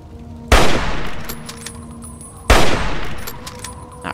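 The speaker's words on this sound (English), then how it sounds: "Now he's shooting at us." Two loud, close bursts of enemy gunfire in the video game Fallout 3, each a sharp crack with a ringing tail, spaced about two seconds apart.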